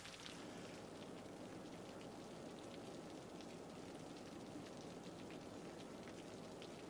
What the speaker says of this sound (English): Oh, and it's raining. The rain started.